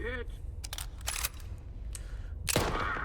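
Weapon fire in the video game Stalker 2 comes as a few short, sharp cracks and a louder burst near the end, close and crisp over a low background hum.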